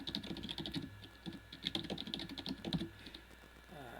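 Fast, steady typing of C++ code on a computer keyboard, heard as close clattering keystrokes in quick bursts, with no talking.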